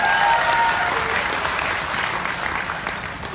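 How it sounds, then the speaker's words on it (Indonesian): An audience at an inspirational talk gives a round of applause for Oriflame, a continuous dense patter of many hands clapping at steady volume, easing a little toward the end. "Tepuk tangan dong buat Oriflame."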